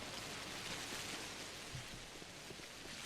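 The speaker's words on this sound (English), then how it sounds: "Boy, it is raining." Steady rain in the horror game Pathologic, a soft continuous hiss of falling water with faint scattered drops, quiet and unbroken throughout.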